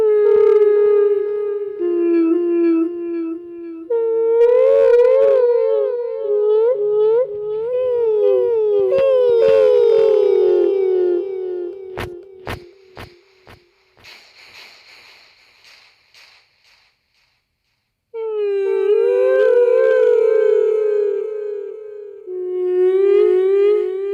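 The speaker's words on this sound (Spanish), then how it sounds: "ahora te voy a poner un audio para que escuches si Destroyer está cerca" A recording said to capture the Destroyer creature: long, wavering tonal howls with rising and falling pitch, loud and sustained, broken by a few sharp clicks and a brief quiet gap before the howling resumes.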